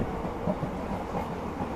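A train runs through green countryside in North Bengal near Siliguri, making a steady, dense rumble with faint rhythmic rattling over a short stretch and no voices.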